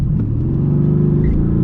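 A 2019 Mercedes-AMG GT R with 575 horsepower launches hard, its engine a loud, close, deep rumbling roar throughout.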